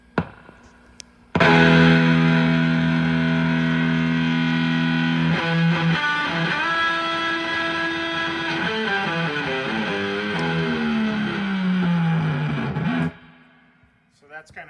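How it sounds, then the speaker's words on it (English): An electric guitar runs through a Plasma high voltage distortion pedal, producing a thick, buzzy, sustained chord that shifts and bends for about twelve seconds before cutting out, with faint talk at the edges. "they call it a high voltage distortion unit"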